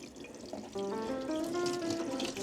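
Warm water runs from a tap, starting with a soft gush and settling into a steady, close stream with a faintly ringing, resonant tone as it fills a basin.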